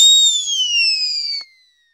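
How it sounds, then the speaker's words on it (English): A single whistle is blown during an EEG test, giving a loud, close, thin tone that slides slowly downward for about a second and a half, then stops, leaving silence. "You will also have to do a test where you blow a whistle for 3 minutes."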